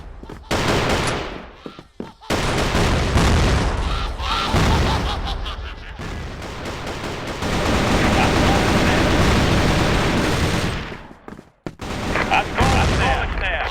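Frag grenade blasts and heavy gunfire in the shooter game CrossFire, loud dense bursts and booms filling most of the stretch with brief quiet gaps, while voices call out over the action.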